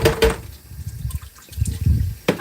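Tap water runs into a kitchen sink with a steady splashing flow, punctuated by a few louder splashes and drips near the start and end, heard close by with no talking.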